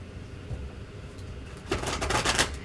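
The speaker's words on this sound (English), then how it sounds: "Yeah, I'm trying to shuffle." A deck of cards being shuffled for a reading, a soft riffling flutter that comes in over the last second after quiet room noise.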